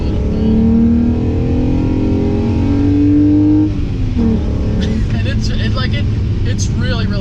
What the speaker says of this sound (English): I'm in second now, do a little pull